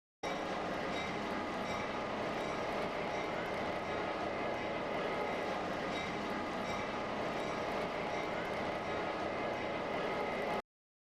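Steady rumble of a pair of EMD NW2 diesel switcher locomotives on the Chicago Great Western Railroad pulling a freight train past, wheels and cars clattering continuously at a moderate distance, with no voices.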